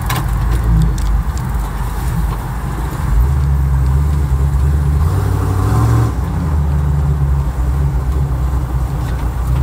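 A 1973 Ford Bronco Ranger's engine drones steadily while driving, loud and close, its low rumble shifting in pitch as the truck changes speed, with no talking over it.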